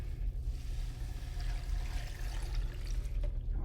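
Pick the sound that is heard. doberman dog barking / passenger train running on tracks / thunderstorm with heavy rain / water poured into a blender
water poured into a blender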